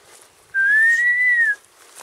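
A shepherd's single sustained whistle rises and then falls, lasting about a second, loud and close, while wind hisses faintly before and after it. He uses the whistle to call his sheep.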